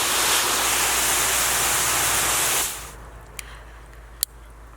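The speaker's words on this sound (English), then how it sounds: "This one here, it's a very directional mist." A garden hose nozzle set to a directional mist sprays water in the vegetable garden, a loud, steady hissing rush for nearly three seconds before it shuts off, leaving quiet background with a couple of small clicks.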